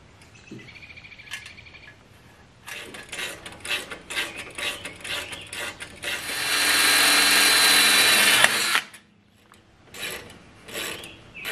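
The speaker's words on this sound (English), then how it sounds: "just need to drill out two holes and insert two bolts," A power drill bores holes into a Rural King RK25 tractor to mount remote 12V battery terminals. Several short whirring bursts lead into one long, steady grinding run before the drill cuts off.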